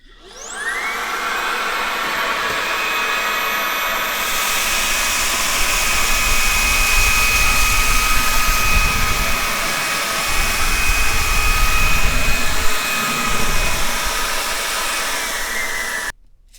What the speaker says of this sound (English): So I'm gonna turn the HiKOKI vac on to high, and let's see how well it does.